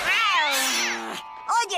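Cartoon cat giving a drawn-out, wavering meow that rises and falls, loud and close, followed by a shorter squeaky cry, with no speech over it.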